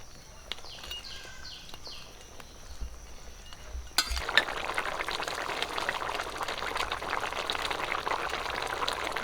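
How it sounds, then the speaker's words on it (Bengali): Rohu fish curry broth with potatoes simmering in a pot in a village kitchen, a steady close bubbling hiss that swells louder about halfway through, with no voices. "ঝোলটা ফুটে গেছে"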